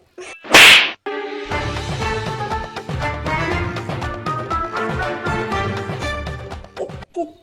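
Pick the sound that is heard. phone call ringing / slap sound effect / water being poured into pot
slap sound effect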